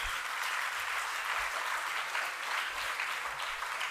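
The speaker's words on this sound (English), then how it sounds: "Every one of you stand up and give a round of applause to them" A hall audience gives a standing ovation to ISRO scientists honored for the Chandrayaan-3 mission, sustained, dense applause holding steady with a few low thumps beneath.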